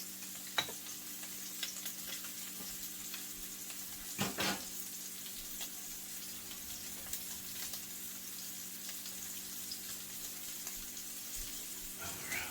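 Sausage fries in a pan for biscuits and gravy. A faint, even sizzle runs throughout, with a few scattered scrapes and clicks from the stirring.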